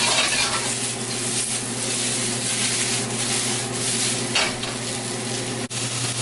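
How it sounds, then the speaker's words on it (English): Mushrooms, snow peas and peppers sizzle and crackle steadily in a hot pan while being stir-fried, with scraping and occasional clinks from the utensil. "we are going to stir fry it for maybe about 2 minutes."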